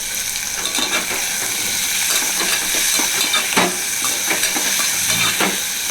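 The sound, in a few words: shallots frying in pan with salt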